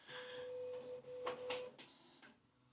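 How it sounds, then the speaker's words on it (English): A printer whirs and chirps faintly, with a steady tone and a few short mechanical bursts as it runs. "Excuse the noise if you can hear that, it's the printer."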